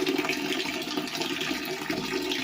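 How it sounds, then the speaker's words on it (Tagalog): A farm toilet flushes with a steady rushing, gurgling stream of water that holds at an even level close by, with no one talking over it. "Di-flush na rin po yung CR nila."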